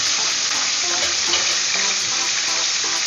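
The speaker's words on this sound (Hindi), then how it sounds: "चला लेंगे टमाटर को।" Tomatoes and green chilies fry in a pan while being stirred, a loud, dense, continuous sizzle with faint scraping throughout, close and unbroken.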